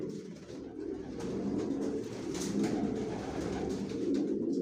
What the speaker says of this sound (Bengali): সব একই লাইনের কবুতর আমার লফটে জনসনের, আর সব লংয়ের কবুতর পালি, অরিজিনাল রেসার।